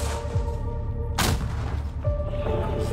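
A single heavy artillery boom cracks out over a steady low engine rumble, with a second, softer thud following about a second later.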